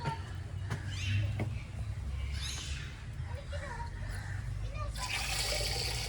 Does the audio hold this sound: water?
yes